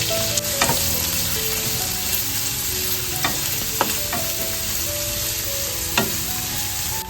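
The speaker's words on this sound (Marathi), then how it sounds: "आता याच्यामध्ये कांदा घालून घेतोय आता आपण फोडणी द्यायला सुरुवात करतोय" Onion sizzles steadily in hot oil, with scattered scraping clicks from a spatula stirring the pan, close and fairly loud.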